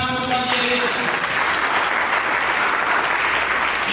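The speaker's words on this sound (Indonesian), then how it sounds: "Dengan tepuk tangan untuk Yesus." A church congregation applauds for Jesus during a sermon, a steady, loud wash of clapping from many hands that fills the whole stretch.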